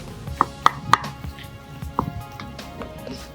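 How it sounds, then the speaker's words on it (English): Potatoes being mashed for mukimo, a few sharp thumping strikes of the masher against the pot in quick succession, then softer scattered knocks, close and without talk. "All you need to do is to mash"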